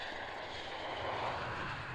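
Airplane engine at an airshow, a steady broadband roar that swells slightly midway, loud and continuous with no voices.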